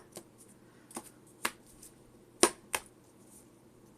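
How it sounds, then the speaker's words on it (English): Pokemon trading cards being shuffled by hand, a series of crisp, separate riffling snaps spaced about half a second apart, close and fairly quiet between bursts. "Making sure to not look at any of the cards while I'm shuffling"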